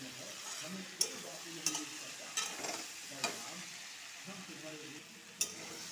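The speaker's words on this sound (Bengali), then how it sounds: "তো ভালো করে ভেজে নিব ভেজিটেবলগুলি" Vegetables sizzle steadily in a hot pan while a utensil stirs, scraping and clinking against the metal every second or so.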